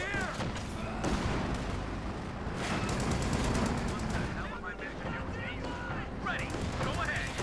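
Browning machine guns fire from inside a building in a Company of Heroes 2 match, with dense, rapid bursts and booming battle noise running throughout under a commentator's voice.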